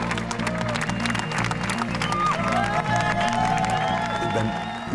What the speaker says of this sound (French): je vais vous demander de les applaudir bien fort